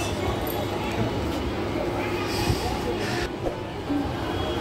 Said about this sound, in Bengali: এই তো চলে গেল এই ট্রেনে